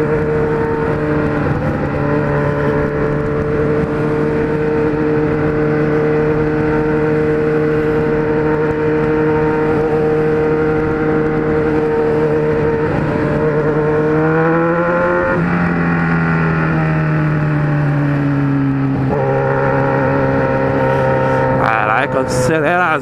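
A Kawasaki Z1000 motorcycle fitted with Evolution Racing accessories is heard as a loud, close engine hum while riding, with pitch shifts as it changes speed and gears, and with wind noise throughout.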